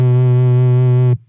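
A single deep, buzzy synthetic note from an octave-down subharmonic guitar effect holds steady for about a second, then cuts off abruptly, rich in low harmonics.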